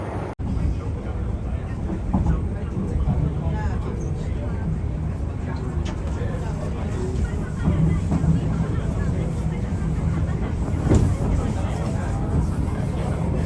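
A steady rumbling ride inside a crowded Hong Kong MTR train, with a low constant roar and indistinct crowd murmur throughout.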